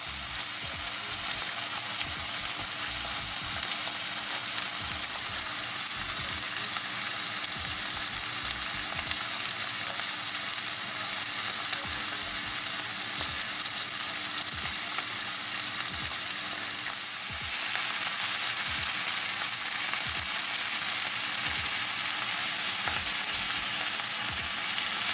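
Crocodile meat fillets seasoned with salt and pepper fry in a pan, giving a steady, loud, continuous sizzle with faint crackles throughout, close up and without talking.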